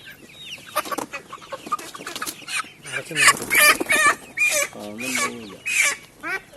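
A Palakkad native hen clucks and squawks close by in a henhouse, the calls rising into loud, drawn-out cackles among other chickens, with people talking intermittently.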